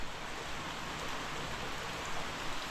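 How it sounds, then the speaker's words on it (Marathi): Steady, dense rain hissing down, with an even wash of noise throughout and no voices. "पावसान कंटाळ दिले ना आज"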